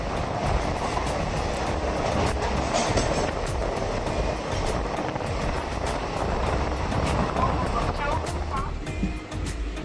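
Steady, loud rumble and clatter of the Bidar–Mumbai CSMT superfast express (22144) in motion near Ulhasnagar and Kalyan on the approach to Mumbai, continuous throughout without a break.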